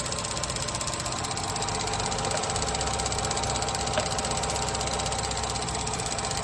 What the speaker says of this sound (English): we do have some rattling going on